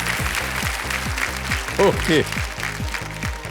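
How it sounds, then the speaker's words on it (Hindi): A studio audience applauds on the Kaun Banega Crorepati quiz show, a steady wash of clapping under a rhythmic pulsing music bed, with a host briefly speaking over it. "कितने लोग यहाँ पर पहले से ही ताली बजा दिया"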